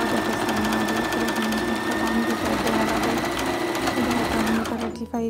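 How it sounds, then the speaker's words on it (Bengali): A Brother sewing machine stitches cloth in a fast, steady, continuous mechanical whir with rapid needle ticks, loud and close, running for about five seconds before stopping abruptly near the end. "তো আমি মেশিন স্টার্ট করলাম, এখন সেলাই স্টার্ট করলাম"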